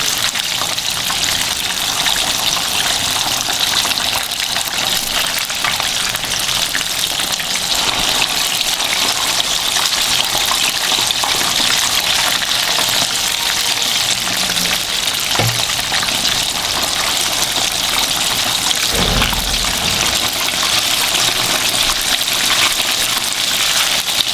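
A loud, continuous sizzle of fish frying in hot oil, steady throughout, with a couple of faint knocks partway through.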